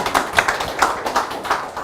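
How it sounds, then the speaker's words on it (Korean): An audience at a book concert claps to welcome the author, a loose patter of hands from a small crowd at close range with no voices over it. "지금부터 다시 한번 뜨거운 박수로 최성우 작가님을"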